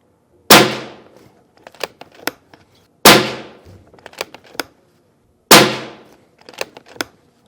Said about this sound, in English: So we're gonna do a little 5-shot group, 35 yards.